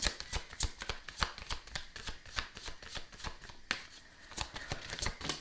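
A deck of oracle cards is shuffled close by in a steady run of crisp riffling flutters that lasts several seconds without a break, and nobody speaks.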